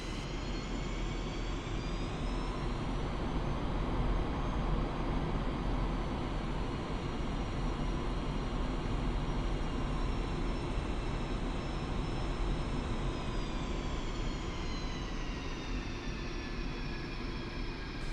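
A fighter jet engine idling steadily while taxiing in the DCS World flight simulator, a loud, constant turbine roar with a high whine that rises slightly and falls back, unbroken and without speech.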